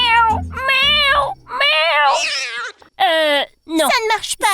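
A person imitates a cat meowing, giving a series of drawn-out, wavering meows in several bursts with short gaps, loud and close.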